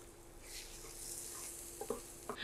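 Two eggs frying with onions in a pan, a soft steady sizzle throughout with a few light scrapes and taps near the end.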